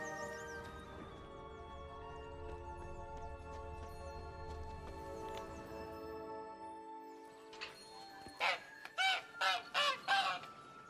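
A goose in The Witcher 3 honks in a run of five or six loud, close calls near the end, after a stretch of layered game music and ambience.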